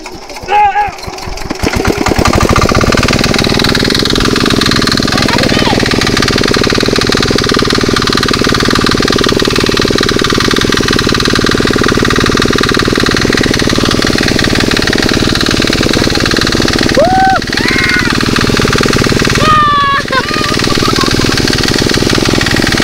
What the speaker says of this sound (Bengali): তো চলো মেশিনটা এবার স্টার্ট মারবো